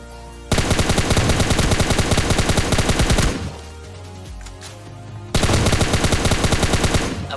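Automatic gunfire in PUBG Mobile Lite, loud and close: a long rapid burst, a pause filled with lower rumble, then a second sustained burst of fast shots.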